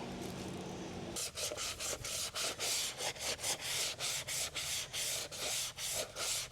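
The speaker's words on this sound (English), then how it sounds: "Just gonna scrub these up too." Items scrubbed outdoors with a Scrub Daddy sponge and mild dish soap, a rapid run of rhythmic rasping strokes, close and fairly quiet, following a short lull.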